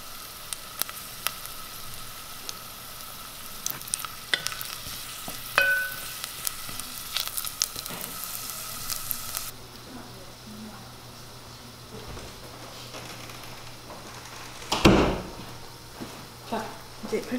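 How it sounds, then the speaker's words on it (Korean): Garlic sizzles in hot oil in a pan with a steady, close hiss and occasional pops that thin out midway, followed by a loud clatter near the end. "좀 지글지글 끓으면서 마늘의 향이 전달될 때까지 기다리겠습니다."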